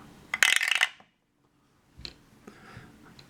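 Plastic dice clattering down through a 3D-printed dice tower, close: a dense rattling burst, then a pause and a few light clicks as they settle, with no talking.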